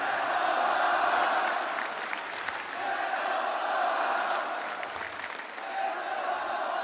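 Crowd of about 10,000 in an arena cheers and applauds for Team Falcons at a Counter-Strike esports grand final against FURIA in Hong Kong, a loud sustained roar that swells and ebbs, with a voice talking faintly over it.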